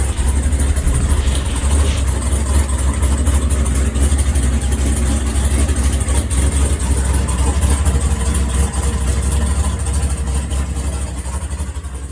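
A freshly tuned car engine runs steadily after a radiator leak repair, a loud continuous low rumble at idle with slight revving, alone and close.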